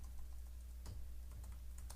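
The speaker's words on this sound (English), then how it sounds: "So I'm typing a title right where you would normally type it, of course." Typing on a computer keyboard while writing a WordPress post title, scattered light key clicks close to the microphone over a low steady hum.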